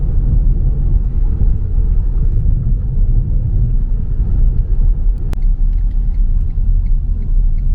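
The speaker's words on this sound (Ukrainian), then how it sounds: "Біля базарчику машин багато, всі скупляються." Cars gather near a small market in the Odesa region, making a steady low traffic rumble that continues without a break and with no voices.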